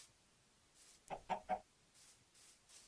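Chickens in the Minecraft video game give a few short clucks, three quick ones in a row near the middle and a sharper one at the end, over faint background.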